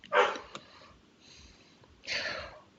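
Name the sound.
dog barking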